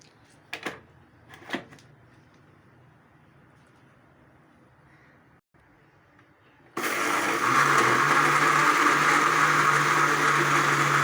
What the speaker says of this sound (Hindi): अब मैं इसको ग्राइंड कर रही हूँ।